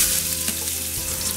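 Chopped onion added to hot oil with mustard seeds for tempering crackles and fries in a steady, close sizzle with no one talking.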